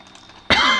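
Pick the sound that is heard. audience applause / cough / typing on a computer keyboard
cough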